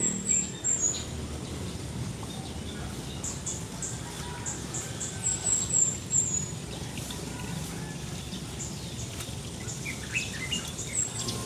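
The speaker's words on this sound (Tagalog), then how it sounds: "Lalo na pagka ngayong umaga, ang maririnig nyo, yung mga huni ng ibon." Faint, high birds chirp sporadically over a steady outdoor hiss, with small clusters of tweets scattered throughout, heard in the morning beside a pool at a modern bahay kubo.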